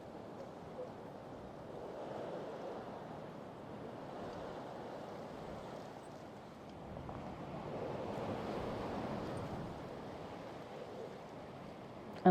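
Strong wind outdoors in a partly sheltered spot, a continuous broad rushing that swells and eases, buffeting close to the microphone with no talking.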